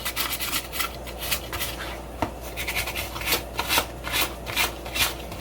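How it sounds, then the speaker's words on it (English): Rough scraping strokes of 220 grit sandpaper worked by hand over the metal edges of a lightsaber emitter's top piece, a steady rasping rub with repeated louder passes, close up and with no talking. "I'm going to use some 220 grit sandpaper, and I'm going to work some of these edges"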